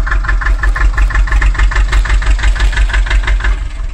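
A mini tractor engine idles nearby with a steady, fast knocking thrum that pulses evenly throughout, loud and unbroken with no talk over it.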